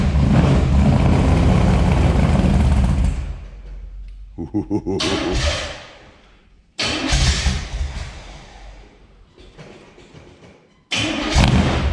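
A 1973 Dodge Dart with an antique Holley carburetor and no choke cranks on a cold start, catching with a loud roar that stumbles, dies and restarts in bursts, close and harsh.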